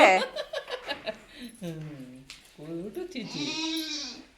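Goats bleating close by at a family home during a birthday celebration, several wavering calls under and between children's voices and laughter.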